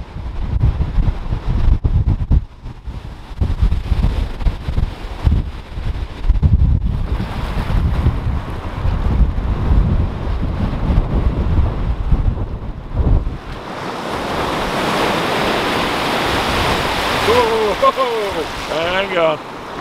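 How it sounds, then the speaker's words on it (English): Storm wind buffets the microphone on the Lake Erie shore at Fort Erie, a heavy roaring rush for most of the stretch, then gives way to a loud, steady hiss of crashing surf near the end. "there's a big wave"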